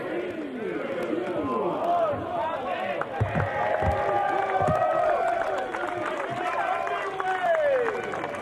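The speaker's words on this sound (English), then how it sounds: "You can hear the crowd joining in." A golf gallery at the LIV Golf Invitational in Bedminster cheers and claps around a shotgun start, the crowd noise steady and moderately distant beneath a commentator's voice.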